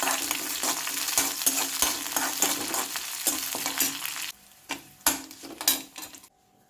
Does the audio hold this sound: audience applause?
no